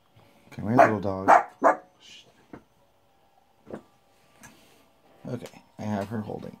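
A little pet dog yaps a few times in quick bursts, close and indoors, with a person talking in between the barks.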